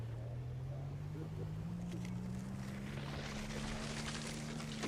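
A motorboat engine running at full throttle, a steady loud drone with a rising pitch that climbs over the whole stretch, plus wind and water rush underneath.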